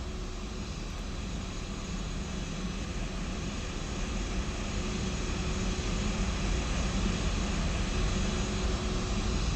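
Steady, unbroken engine drone of a FlightFactor A320 airliner in the X-Plane 12 flight simulator, a broad even roar held at constant level throughout with no talk.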